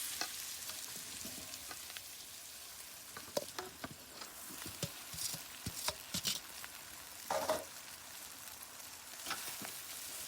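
Chowmein being mixed in a pan over a clay stove, a soft sizzle broken by irregular scraping and clattering stirring strokes, close but fairly quiet.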